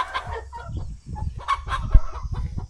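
Chickens clucking up close on a farm at dusk, a loose series of short, varied clucks and squawks from several birds.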